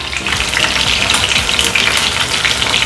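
Fish pieces frying in cold-pressed oil for a Bengali-style fish fry, a loud, dense, continuous sizzle and bubbling close up with no voices.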